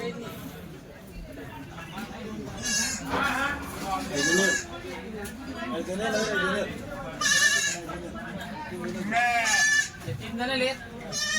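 Kathiawari goats and sheep at a Chalisgaon livestock market give out several loud wavering bleats amid a busy crowd, with people chattering throughout.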